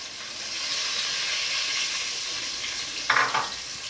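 Crayfish dropped into a spicy frying pepper sauce for Cameroonian kanda, a steady close sizzle and hiss throughout with a brief scrape of stirring near the end.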